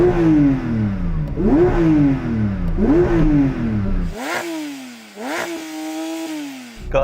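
A Porsche 911 GT3 engine is revved hard in drive with both paddles pulled, and several sharp rising blips climb and fall back in a repeating rhythm, loud and close.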